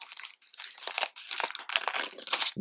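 Stiff foil wrapper of a vintage 1983 baseball card pack being peeled away from the card, a close, continuous crinkling and crackling with short tearing bursts over about two and a half seconds, no talking.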